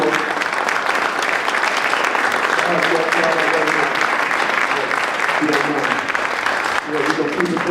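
Sustained crowd applause at the RTV Awards Celebration, a full and even roar of many hands clapping for several seconds, with voices mixed faintly underneath.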